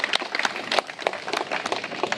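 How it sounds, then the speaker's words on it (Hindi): Applause for a volunteer during a CPR safety class, a brief patter of many hands clapping from a small group, close and fairly even. "इनके लिए जोरदार ताली"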